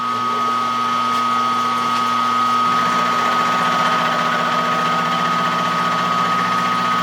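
Small lathe motor running steadily at a raised speed while cutting a 50-tooth gear: loud continuous mechanical whine and hum with a faint rising tone midway, no pauses.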